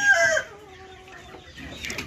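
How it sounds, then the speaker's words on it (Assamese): Laying hens on a poultry farm in Assam cluck and squawk loudly at the start, then quieter clucking and rustling continues; another burst of fowl calls rises near the end. "এইবিলাক চাওক মুৰ্গী বিলাক কিমান ডাঙৰ ডাঙৰ মুৰ্গী"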